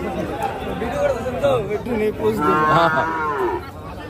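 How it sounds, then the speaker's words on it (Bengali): An Australian calf moos several times at a busy Bangladeshi cattle market after Eid, its drawn-out calls loud and close over a steady background of crowd chatter and other livestock. "একটা অস্ট্রেলিয়ান বাছুর।"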